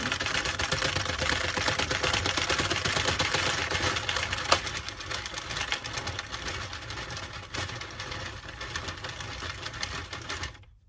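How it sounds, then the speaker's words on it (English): An Addi Express knitting machine being cranked, producing a steady rapid clatter of plastic needles that runs continuously up close for about ten seconds before stopping abruptly. "now I'm just going to crank the machine until it falls off the machine"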